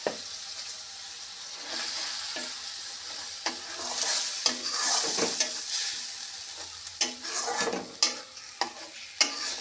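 Spices with cumin powder sautéing in oil in a pan for a prawn malai curry: a constant close sizzle with bursts of louder frying and sharp scraping taps from stirring.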